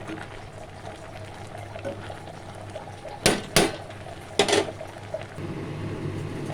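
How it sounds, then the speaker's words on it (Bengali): Jute leaves being stirred in a wok give a soft, steady wet sizzle, broken by a few sharp scraping clatters of the spatula in the middle. "দেখো ভালো করে নাড়াচাড়া করে দিচ্ছি শাকটা কমে এসেছে"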